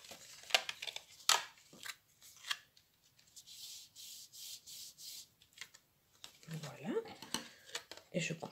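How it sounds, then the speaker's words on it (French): Scissors cut excess paper from a handmade folded card, giving close crisp snips and rubbing paper sounds in short irregular bursts. "je coupe ensuite le morceau que j'ai en trop"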